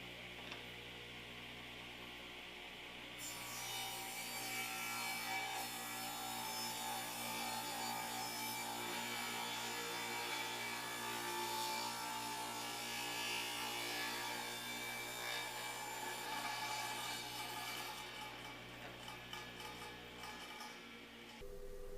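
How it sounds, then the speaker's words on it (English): Soft pallet wood being sanded by hand into a cabinet door knob with 80 grit sandpaper, a steady, close scratching rasp that runs continuously for most of the stretch with no talking. "with this pallet wood, it's soft. So this 80 grit sandpaper is really getting it"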